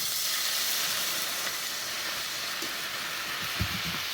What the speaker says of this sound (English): I've got some beef bone broth. And I'm just going to put enough to deglaze the pan